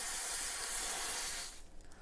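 Freeze spray hisses onto the circuit board of a Dell 2624 gigabit switch in one loud, continuous burst that lasts about a second and a half and then cuts off sharply.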